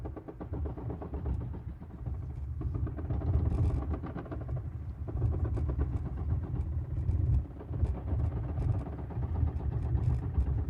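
Military vehicles drive during the Defender Europe 25 exercise, producing a steady low engine rumble and drone with shifting mechanical clatter, moderately distant and continuous.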